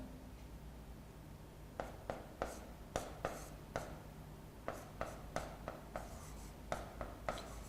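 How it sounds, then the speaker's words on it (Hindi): Chalk or marker on a board during a physics lecture, with quiet irregular taps and strokes scattered through a hushed room. "यहाँ पे लिखता हूं मैं"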